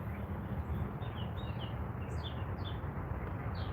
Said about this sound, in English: You like my pet birds?